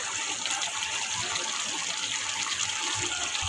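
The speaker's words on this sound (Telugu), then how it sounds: "కాయలు అయితే కట్ చేసి పెట్టుకునేది నేనైతే కడిగేస్తున్నాను" Running water gushes steadily over cut drumsticks being rinsed in a home kitchen, a continuous close splashing wash with no speech.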